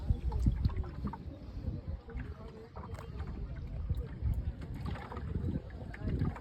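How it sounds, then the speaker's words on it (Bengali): Boat ride on the Teesta river at Gajoldoba, with steady wind buffeting and low rumbling of the boat on the water throughout, people talking over it. "আমরা এখন গাজল ডোবায় নৌকা বিহার করছি নৌকায় উঠে গেছি দুজনে"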